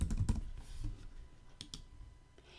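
Fingers type on a computer keyboard in a short, quiet burst of clicks. The keystrokes are irregular and a few land harder than the rest. Nobody speaks.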